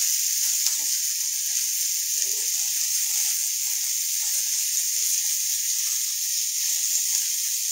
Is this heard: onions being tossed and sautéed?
yes